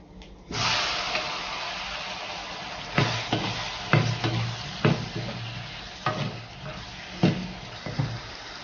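Turmeric, coriander and red chili powder fry in a hot pan for a dried-corn makki ka bakhla dish, a steady close sizzle broken by several sharp scrapes and clatters of stirring.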